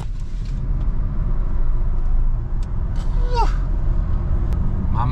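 Smart #1 electric car accelerating hard from 0 to 100 km/h, heard from inside the cabin: a steady, loud low road-and-motor rumble that builds and holds throughout, with a few faint high chirps on top.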